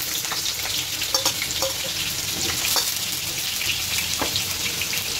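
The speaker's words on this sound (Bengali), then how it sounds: "আলুটা ভেজে নিয়ে কড়াইতে তেল দিয়ে দিলাম," Potatoes fry in hot oil in a wok, a loud continuous close sizzle broken by occasional light clicks and scrapes of stirring, with no voices.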